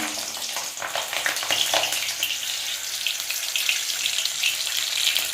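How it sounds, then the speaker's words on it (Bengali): Whole garam masala, cardamom and green chillies sizzling in hot oil in a pan, a loud, dense, continuous hiss and crackle close up with no pauses. "দেখ এই তেলের মধ্যে আমি এখন গোটা গরম মশলা এলাচ ফোড়ন দিয়ে দিলাম দিয়ে দিচ্ছি কাঁচা লঙ্কা"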